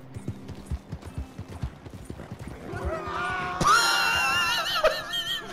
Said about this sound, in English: Why is someone screaming?